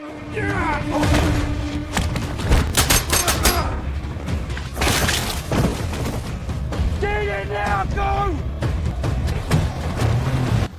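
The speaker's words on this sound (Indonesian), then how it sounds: "Situasi pun langsung berubah menjadi baku tembak mematikan." A deadly gunfight in an action film, with bursts of gunfire, booms and thuds mixed with music, along with voices and shouts throughout.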